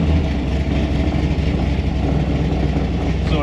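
A 1964 Chevy II engine runs loud and close, a steady, rough rumble that holds an even pace throughout with no pauses.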